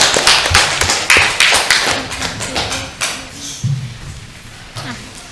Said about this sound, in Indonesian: Oke, kita beri tepuk tangan untuk teman kita.